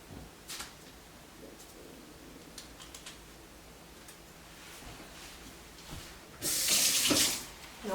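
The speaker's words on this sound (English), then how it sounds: "I'm gonna wet my fork a little bit so that it doesn't stick." A kitchen tap runs briefly near the end to wet a fork used for pressing cookie dough, a sudden loud hiss of water after quiet handling noises and small clicks.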